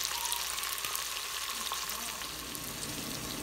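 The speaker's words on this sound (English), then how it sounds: "Now that we got the onions, garlic, and the sausage and bacon browning" Sausage, bacon, onions and garlic browning together in a pan give a dense, even hiss of frying that holds steady throughout, fairly quiet, with no voices over it.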